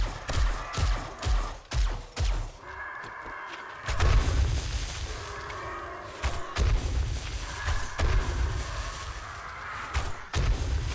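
Grenades and explosives blowing up against a Day 21 horde in 7 Days to Die with the Darkness Falls mod, a series of heavy booming blasts, first as separate rhythmic thuds, then a sustained roar of detonations.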